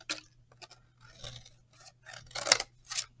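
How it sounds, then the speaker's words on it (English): Scissors snip out a paper circle for a Thankful Pie craft, a string of short, crisp cuts close by in uneven bursts over a low steady hum, with no talking. "I'm going to cut like that. Go all the way around that circle until you get the circle all the way cut out."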